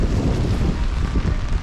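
Wind blows along a wet Cardiff street, buffeting the microphone with a steady low rumble and gusty roar and no voices.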